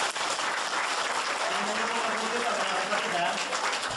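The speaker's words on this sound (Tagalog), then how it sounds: "Palakpak naman yan." Audience applause at a seminar or sales talk, a short burst of continuous clapping at moderate volume with voices mixed in.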